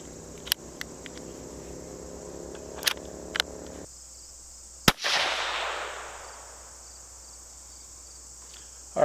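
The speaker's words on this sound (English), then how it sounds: "we'll go ahead and give it a few shots at the 50-yarder and see what we get" A Mossberg 817 bolt-action .17 HMR rifle fired outdoors. One sharp, loud crack echoes away across open ground, with fainter clicks before it and steady cricket chirping behind.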